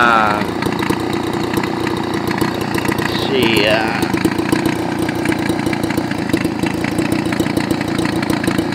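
Older Homelite Bandit handheld gas blower with a Walbro carburetor and a broken adjustment screw tip, idling steadily with a continuous low mechanical drone at close range, a voice talking briefly over it.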